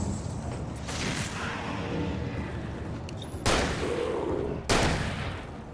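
Shotgun blasts in the game Alan Wake, a few sharp loud reports spaced a second or so apart over a low rumbling background, with no talk.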